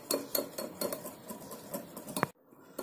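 A spoon whisks dalgona coffee batter in a bowl, making a quick, regular run of close clinks and scrapes against the bowl before stopping abruptly near the end, with no voice.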